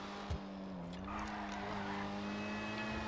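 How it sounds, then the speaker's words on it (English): A Dinka Jester RR car drives in GTA 5 Online, its engine holding a steady drone with faint tire noise, fairly quiet throughout. "This car, god damn, she's fast, and she's making my game lag."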